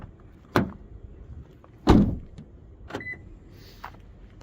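A Toyota iQ city car's keyless entry unlocking and its door opening: a soft click, then a louder clunk of the latch and door, further small thuds, and a brief faint electronic tone.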